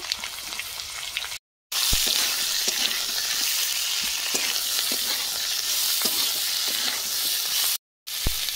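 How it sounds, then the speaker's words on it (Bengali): Chopped potatoes and onions fry in a pan with a dense, continuous loud sizzle and faint stirring clicks, briefly cut off twice. "কেটে রাখা আলু দিয়ে দেবো। পেঁয়াজ কুচি দিয়ে দেবো।"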